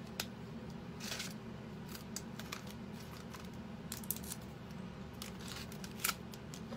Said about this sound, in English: so now the first thing is to take off the tape